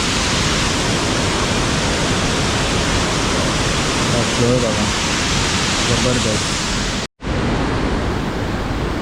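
A waterfall near a temple pours steady, loud, broadband rushing water from houses above, filling the whole scene without pause while someone speaks briefly over the roar.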